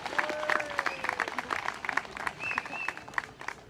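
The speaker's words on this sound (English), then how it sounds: "give yourselves a round of applause" An audience at an outdoor Extinction Rebellion protest festival claps in a dense patter of applause, moderately distant, with cheers and voices mixed in.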